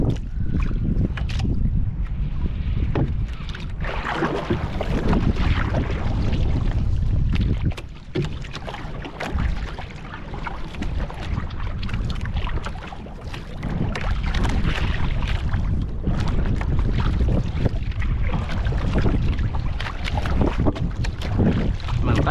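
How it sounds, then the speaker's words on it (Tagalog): Strong wind roars continuously into the microphone with heavy buffeting and rumble while fishing, loud throughout with only a brief easing midway. "Malakas yung hangin dito."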